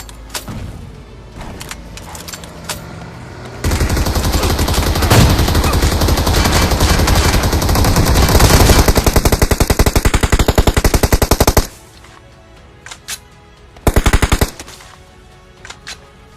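Groza and M249 weapons firing in a video game: a long, loud sustained stream of rapid automatic fire lasting several seconds, framed by quieter clicks and a brief second burst near the end.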